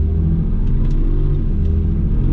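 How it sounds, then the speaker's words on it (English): Acura NSX engine idling in a driveway, a steady, loud, close low rumble with an even hum and no talking. "it's been idling for, gosh, 5 minutes in the driveway"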